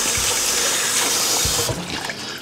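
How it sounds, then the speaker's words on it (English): Hands are washed under a running kitchen tap, a steady close splash of flowing water that changes as the hands move through the stream, then eases off near the end. "So now let me wash my hands."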